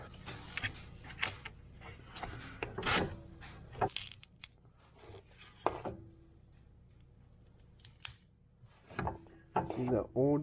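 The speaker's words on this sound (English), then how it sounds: "And you can get your grease gun." A grease gun pumps grease into an ATV wheel bearing through a zerk fitting, giving irregular metallic clicks and ratcheting strokes up close, with pauses and handling noises between bursts.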